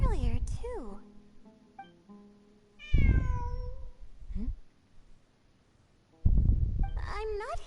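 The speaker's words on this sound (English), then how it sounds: "It really is a cat." A cat in the Luna II Sumeru event of a video game gives several drawn-out, wavering meows, some near and loud, broken up by pauses and bursts of other noise.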